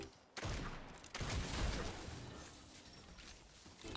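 Gunfire in Fortnite during a duo match: a quick burst of game shots opens the clip, followed by a dense rattling volley that slowly fades into a steady wash of game noise.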